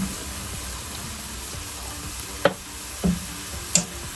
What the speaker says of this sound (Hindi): थोड़ा सा प्याज को नरम करने के लिए मैं इसमें शामिल कर रहा हूँ 1 कप जितना पानी